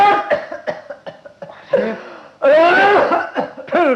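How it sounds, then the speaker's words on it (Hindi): An old man coughs repeatedly in a Hindi comedy sketch, with harsh, loud, close bursts in an uneven rhythm that give way to heavier hacking and throat-rasping toward the end. "अभी देखता हूं ये कौन बुढ़ा लगातार खांस कर मुझे डिस्टर्ब कर रहा है"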